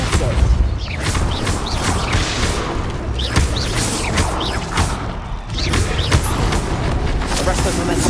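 Depulso force-push spell cast in Hogwarts Legacy on PS4 Pro, heard as repeated heavy thumps and bursts within a dense, continuous bed of loud game effects.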